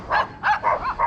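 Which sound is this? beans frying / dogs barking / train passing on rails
dogs barking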